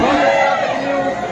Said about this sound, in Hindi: गाइस बहुत भीड़ है यहाँ पे